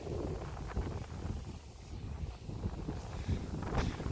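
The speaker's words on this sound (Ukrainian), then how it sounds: "який сьогодні вітер" Strong wind buffets the microphone while cycling along a highway, a continuous, rumbling roar with gusty surges, dominating the scene with no voices.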